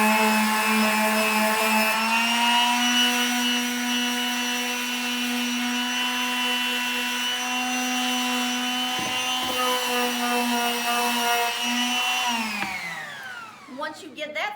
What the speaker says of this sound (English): you'll start with the palm sander